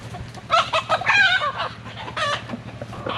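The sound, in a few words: rooster clucking and crowing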